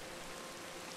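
Steady rain falling in a video game, a soft, even hiss that continues without a break and without any talk.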